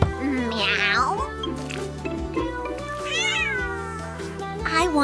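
A kitten meows repeatedly, high rising-and-falling cries close by, with a person talking softly and some background music mixed in.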